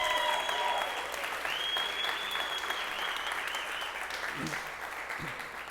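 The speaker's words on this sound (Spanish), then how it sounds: "Vamos a dar un aplauso fuerte, fuerte." Loud applause fills a church, a dense steady clatter of many hands that holds strong throughout, with a sustained tone and faint voices running beneath it.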